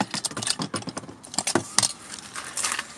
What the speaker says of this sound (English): there are the spare keys for the van, ignition, doors and everything